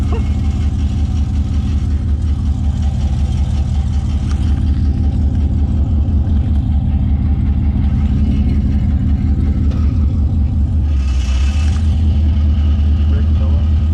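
A Pontiac Trans Am WS6's engine rumbles steadily and builds as the car pulls away, its low growl running the whole time beneath people talking, with a brief dip and change in tone near the end.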